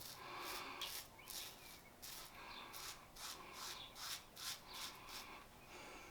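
A nearly century-old Gillette Decolletee No 23 short-handled lady's safety razor scrapes across skin in repeated short rasping strokes, a quiet close rhythm of about a dozen passes with no talking.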